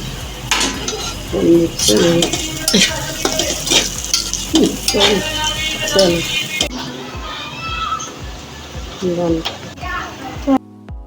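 Okra goes into a hot pan and is stirred with a utensil, giving clattering scrapes and soft sizzling in a home kitchen while people talk nearby.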